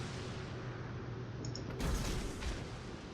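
Naval gunfire from a destroyer in World of Warships, a steady low rumble of battle ambience broken by a sharp booming salvo near the middle, then a second softer blast.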